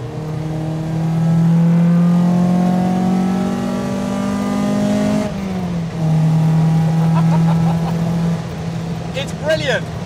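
An MGB GT fitted with a Duratec engine on motorcycle carburettors revs up loudly and close, holding a rising drone before a sharp shift drop and building again, with voices talking over it.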